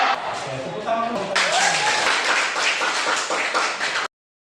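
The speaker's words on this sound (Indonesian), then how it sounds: "Oke, tepuk tangan dulu." Applause in a classroom as a group of students claps together, dense and fairly close, swelling partway through and then cutting off abruptly, with voices mixed in under the clapping.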